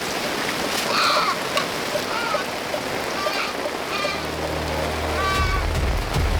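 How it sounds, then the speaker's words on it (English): Heavy rain pouring down violently by a rock shelter on a hillside, a dense steady hiss throughout, with faint animal-like cries and a low rumble near the end. "Rain poured down violently,"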